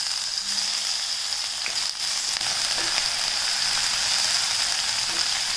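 A paste of ginger, garlic and green chili fries in a pot with a steady, close sizzle and crackle that holds evenly throughout, with no talking.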